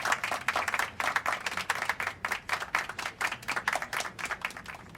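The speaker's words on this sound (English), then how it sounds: "the clapping continues for a good like 10 seconds" Prolonged audience clapping during a low-budget high school musical movie scene, a dense steady patter of many hands that carries on unbroken without voices.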